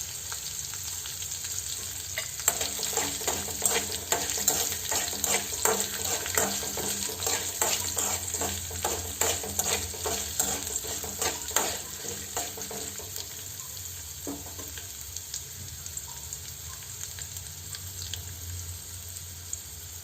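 Byadagi chillies fry in a pan for chicken sukka, giving a steady hiss of oil with bursts of crackling and spatula scrapes over the first half, then a softer, even sizzle.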